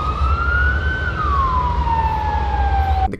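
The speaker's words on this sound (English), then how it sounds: "There were police cars and ambulances." Police car and ambulance sirens wail loudly and close, one long tone rising slightly then sliding down in pitch over a low rumble of traffic.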